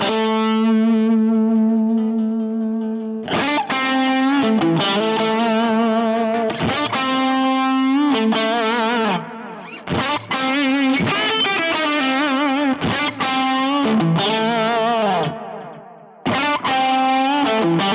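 Electric guitar lead lines through the mid-boost model of an ODS-style amp, smooth and saturated with sustained notes and quick picked phrases, played alone and up front.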